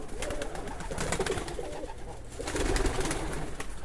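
Polish Widin pigeons coo in an aviary, soft repeated low coos rising in two bursts over a backdrop of rustling and faint bird chatter.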